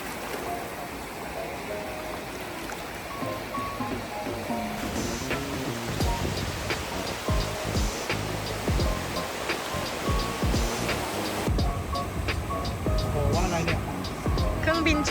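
Sea waves at a beach in Hua Hin wash in with a continuous surging roar, while people talk nearby over the surf.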